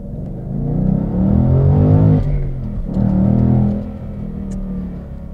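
A 2019/2020 Ford Mustang GT with Performance Pack 2 accelerating hard, its V8 rising in a loud, close revving pull, a brief shift dip midway, then climbing again before easing off.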